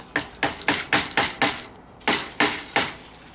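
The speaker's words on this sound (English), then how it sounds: "Got a hammer here. Let's give it the old tap." Eight sharp metallic hammer taps on a part of a 1978 BMW R80/7 motorcycle in a loose, uneven rhythm, close and fairly loud, with a short pause before the last three.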